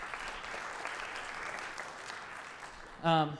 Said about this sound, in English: So can we give her a round of applause too for doing that?